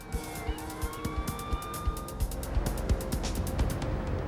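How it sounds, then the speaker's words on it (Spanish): Police siren wailing in rising and falling sweeps alongside passing car traffic with repeated sharp knocks, moderately loud and continuous with no talking. "El sonido cercano de las sirenas evitó que la joven resultara herida de gravedad."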